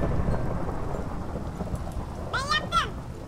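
Steady rain and a low thunder rumble in Minecraft fill the background, with a brief voice near the end.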